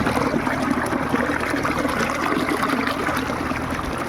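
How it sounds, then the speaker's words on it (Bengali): Water pouring and trickling steadily into a channel in an open field, a close, continuous splashing rush that holds at an even level throughout with no voices. "আর এই যে এখানে পানিটা এসে পড়ছে"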